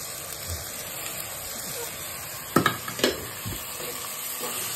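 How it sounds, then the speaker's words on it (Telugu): Chopped onion, green chilli and coriander fry in a pan for an Andhra potato masala, with a steady sizzle broken by a few brief stirring scrapes near the middle. "తర్వాత కోసుకున్న ఉల్లిపాయ, పచ్చిమిర్చి, ఇంకా కొత్తిమీర అవి వేసుకున్నాము."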